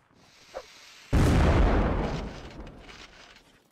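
A single cannon fires in the Mount & Blade Napoleonic Wars game, a sudden loud boom with a rumbling tail that fades over a couple of seconds, after a faint earlier pop.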